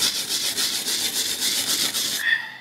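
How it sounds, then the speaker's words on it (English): A steel brush scrapes in circular strokes across a wet painted panel, a steady rhythmic rasping that runs loud and close for about two seconds before stopping. "taking some water over top of an area and a steel brush, and you just want to scrape at it"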